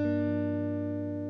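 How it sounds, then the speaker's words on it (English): A single sustained electric guitar note or chord rings out in an uncompressed recording, decaying slowly and steadily, fairly quiet, with no one talking. "This is what it sounds like before it's been compressed."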